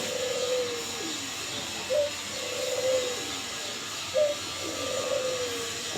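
Domestic pigeons in a loft during hot weather give soft, repeated low coos at a steady moderate level over a faint hiss, with no voices present.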